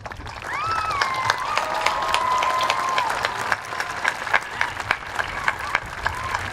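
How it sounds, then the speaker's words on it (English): A graduation ceremony audience applauds visual arts students, broad sustained clapping from a large crowd, with a brief whistle-like tone early on and sharper individual claps standing out as the applause thins toward the end. "please rise so we can give you a round of applause"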